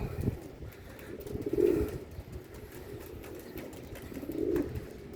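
Pigeons cooing near a loft trapdoor, two soft low coos a few seconds apart over faint outdoor background noise, with no voices.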